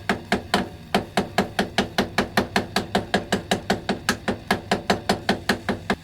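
Rapid, steady strikes of a mallet on a hidden-tang Bowie knife handle, about four per second, loud and close, continuing without pause.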